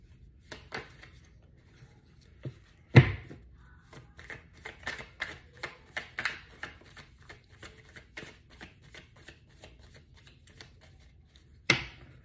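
Tarot cards being shuffled by hand, a long run of quick papery riffles and taps in close, steady rhythm with a couple of sharper slaps, no talking.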